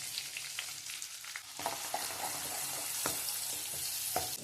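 Ginger garlic paste sizzles and fries in hot oil in a kadai, a steady close crackle with sharper pops and stirring scrapes, no voices.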